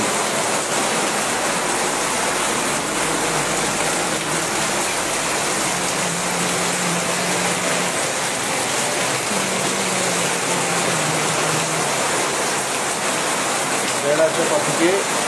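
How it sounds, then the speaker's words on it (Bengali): Heavy downpour of rain falls at Berachampa in a loud, continuous roar, with a faint low hum drifting beneath it midway. "এই মুহূর্তে বেড়াচাপাতে মুষলধারে বৃষ্টি হচ্ছে"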